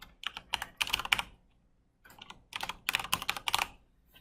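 Close, crisp typing on a computer keyboard comes in two quick bursts of clattering keystrokes separated by a brief pause.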